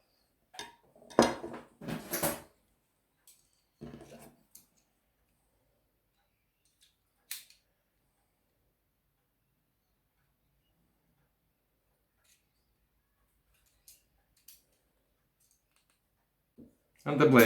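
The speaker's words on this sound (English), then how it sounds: "And the blade will clamp centered." A knife blade is fitted and clamped in a Tormek SVM 140 long knife jig, giving sparse, close metallic clicks and ticks separated by long silent gaps, with a few louder handling knocks at the start and end.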